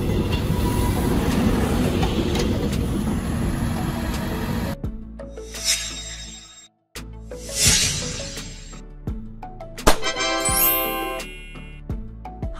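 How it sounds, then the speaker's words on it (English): A hybrid diesel-electric train rumbles along loudly for a few seconds, then gives way to quieter stretches of rail clicks, brief whooshes and ringing metallic tones. "A train that uses multiple power sources, such as diesel and electric"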